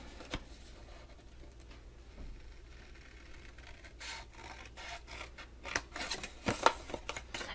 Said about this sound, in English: So next step is we're going to trim out 1 whole square.